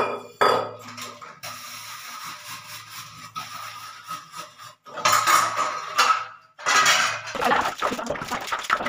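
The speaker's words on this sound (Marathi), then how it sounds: "भांडी घासणार आणि कट्टा स्वच्छ करून" Dishes, pots and pans being scrubbed and washed in a home kitchen, with clinks and clatters of metal utensils in uneven bursts, loudest near the end, close by and without talk.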